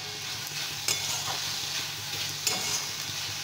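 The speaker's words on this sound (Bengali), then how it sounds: "শাকটা ভালো করে ভাজা ভাজা হলে নামিয়ে দেব।" Amaranth greens stir-frying in a pan give a steady hiss and sizzle, with a couple of sharp scrapes as the spatula turns them.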